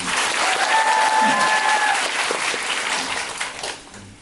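Steady, dense applause from a theatre audience at a musical's final-performance curtain call, loud and sustained before tapering off toward the end.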